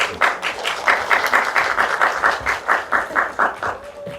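An audience at a city culture program briefing session in Korea claps in a fast, steady rhythm as three managers walk in. The even bursts are moderately loud and carry no voices.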